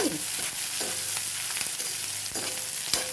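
Garlic, cumin, dried red chillies, urad dal, curry leaves, onion and green chillies frying in a pan, a steady oily sizzle with occasional stirring scrapes, close and continuous.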